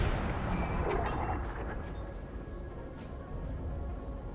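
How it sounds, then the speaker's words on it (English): Cannon artillery booms rumble across a Napoleonic battlefield in Napoleon Total War, deep low thuds and distant blasts rolling together in a continuous heavy barrage with no clear voices. "Yeah, Ross is definitely firing on his position."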